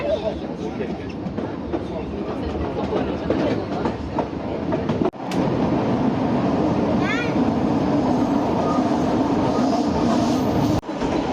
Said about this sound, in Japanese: 昔の電車の音がするなと思ってた